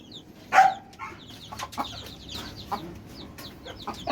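Hen and newly hatched chicks in a homemade coop: one sharp close cluck followed by scattered soft clucks and high chick peeps.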